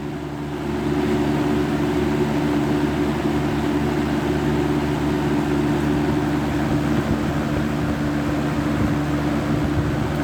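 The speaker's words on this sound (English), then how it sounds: "it's a pretty good old fan" A vintage Hoover multipurpose fan, model E1501, runs on its high setting with a steady, loud motor hum and whooshing airflow that starts up early and holds constant throughout.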